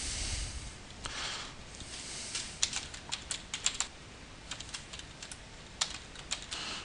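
Keys clack on a computer keyboard as an account password is entered, arriving in short irregular bursts of close, crisp taps over a quiet room with no talking.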